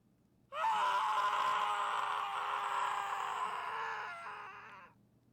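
A loud, sustained scream from a character in the Steins;Gate visual novel, voiced like Okabe, rising suddenly and holding strong for about four seconds before fading out, with no talk over it.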